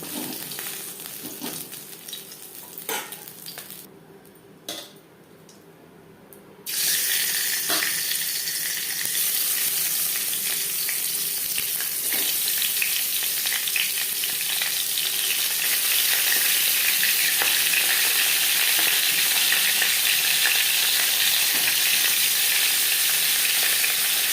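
Steady loud sizzling of bhetki fish bones frying in hot oil, briefly quieter early on, then a continuous crackling hiss that builds slightly over time.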